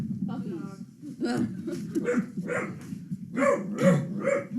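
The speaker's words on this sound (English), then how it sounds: "They have different barks. They have deep barks for" A dog barks several times in short bursts close by, with people talking and laughing over and between the barks in a home setting.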